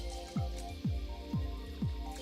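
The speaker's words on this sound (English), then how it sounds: "So we are removing the starch from the rice like this." Rice being washed by hand in a pot of water for jollof, with four evenly spaced sloshing swirls and drippy splashes, close and moderately loud with no talking.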